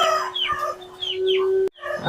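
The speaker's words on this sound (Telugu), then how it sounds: "మజర్ భాయ్ పెట్ట అయితే మంచి సైజ్ లో ఉంది" A rooster at a poultry sale of roosters and hens lets out a loud, drawn-out crow close by, cut off sharply and followed by a burst of nearby clucking.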